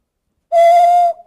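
A bird whistle from a collection is blown once at an auction, giving a single clear, loud, steady tone that holds for about half a second and then trails off.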